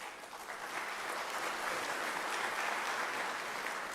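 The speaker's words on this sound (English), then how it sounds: "So I think that requires a big round of applause." A graduation ceremony audience applauds, a soft, even wash of clapping from a crowd heard at a distance that holds steady for several seconds with no talking.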